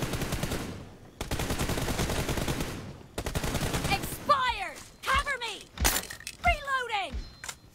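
Bursts of loud, dense automatic gunfire from a video game come in long rattling strings, then give way to scattered shots with whooshing, ricocheting effects, while someone talks excitedly over the game sounds.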